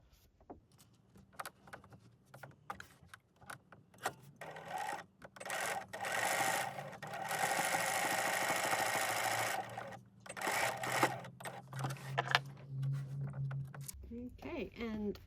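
A sewing machine stitches together a large Luella clutch bag close by, running in bursts of steady whirring and needle chatter between pauses, with quieter handling clicks in the gaps and a low hum toward the end.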